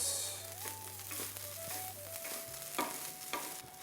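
Cooked rice for coconut rice is stirred in a hot pan. A quiet sizzle carries scattered scraping taps, with a faint steady tone running underneath.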